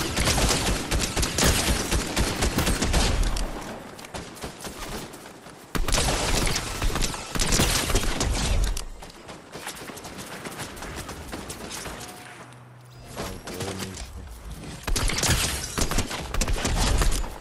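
Heavy video game gunfire fills the space in dense, continuous bursts of rapid shots, loud and close, with short lulls before the shooting starts again.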